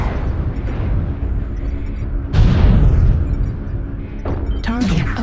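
Artillery strike explosions in a video game: two heavy booming blasts, a few seconds apart, burst over a steady low rumbling background.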